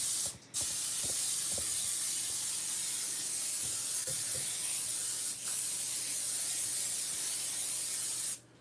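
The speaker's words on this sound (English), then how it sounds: "I'm gonna spray it with some Pam" Pam cooking spray hissing onto a foil-lined pizza pan in a home kitchen: one long, loud, continuous spray burst lasting several seconds, with a short break near the start and faint handling clicks.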